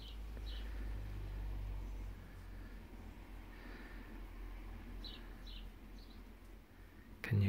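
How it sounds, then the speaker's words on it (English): Birds chirp and tweet outdoors as rain nearly stops, faint scattered short calls at a distance over a low background hum, with no voices. "The birds chirping and tweeting."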